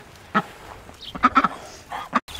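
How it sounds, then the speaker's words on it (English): Duck and goose calling in short bursts at close range, with a few separate loud quacks and honks spread through the moment. "the duck and the goose don't want to participate"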